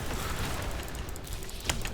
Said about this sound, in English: I walked onto that explosion by mistake